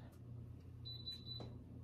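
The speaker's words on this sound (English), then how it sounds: "So it beeped, it said it's ready, it's hot enough." A single faint electronic ready beep from a VEVOR heat press sounds briefly over a steady low appliance hum.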